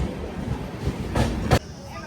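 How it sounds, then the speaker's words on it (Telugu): The Kacheguda Weekly Express pulls away from a station in Telangana with a low rumble heard from on board, broken by a couple of brief louder clunks near the end. "మన ట్రైన్ స్టార్ట్ అయిపోయింది"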